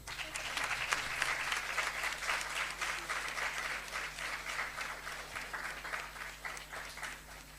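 Audience applause at a kindergarten graduation ceremony for the junior wing of a school in Panchkula, a dense, steady patter of many hands clapping continuously throughout at a fairly even level.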